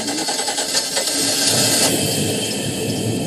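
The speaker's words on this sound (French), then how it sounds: "Et maintenant, on va mettre le contact." A boat engine catches on ignition and runs with a rapid mechanical whir, close and loud, rising briefly before settling into a steady buzz.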